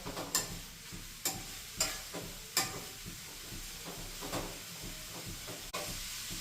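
Grated bottle gourd cooks in ghee in a pan over a low gas flame for a sweet halwa, giving a soft steady sizzle broken by several sharp scraping clinks from stirring, close and moderately quiet.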